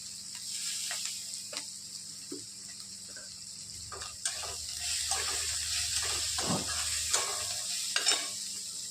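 Asafoetida sizzles in hot oil in a pan while a spinach and moong dal dish is being cooked, giving a faint, steady hiss broken by occasional soft clicks and scrapes nearby.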